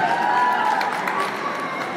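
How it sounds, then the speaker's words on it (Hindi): Short burst of audience clapping and cheering at a live concert for a singer, a dense even patter of applause heard from within the crowd. "मैं चाहूँगा मेरी क्लैप बनती है आपदा जी के लिए तालियां"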